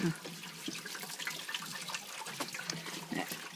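Coolant from a Jeep Cherokee radiator gushes out in a steady, splashing pour, close and continuous with a few louder spatters.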